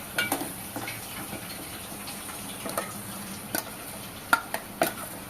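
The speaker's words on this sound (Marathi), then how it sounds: "खोबऱ्याचं वाटण घातल्याच्या नंतर सुद्धा आपण आता व्यवस्थित मिक्स करूया" A spoon stirs coconut paste into egg curry masala in a pan, producing soft sizzling and a wet, scraping mix with a few sharper taps against the pan near the end.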